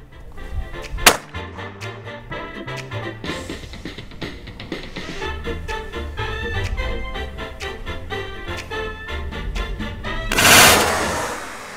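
Shotgun fire at a clay pigeon shooting range: one sharp, loud blast near the start, followed by a long stretch of rustling handling noise and a final burst of broadband noise, without speech.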